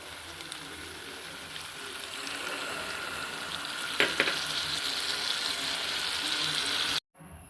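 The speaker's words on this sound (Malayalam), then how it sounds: "കുറച്ച് വിനാഗിരി ഒഴിക്കാം കേട്ടോ." Vinegar going into garlic pickle in a hot pan, a continuous bright hiss and sizzle that swells a little after a brief clatter midway, fairly close and unbroken, no talk.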